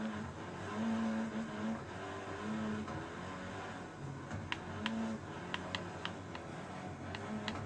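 An engine drones and shifts pitch in a Forza Horizon 3 race on slippery snow, with a steady motor hum, brief tonal whines and a few sharp ticking clicks toward the end, fairly quiet.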